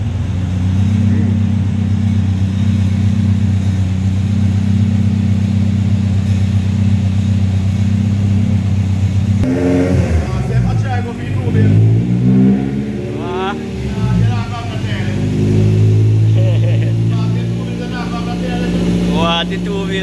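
A Honda B20 VTEC four-cylinder with a stage 1 cam and springs idles steadily, then revs in several sharp climbs and drops, loud and close, with people talking over it.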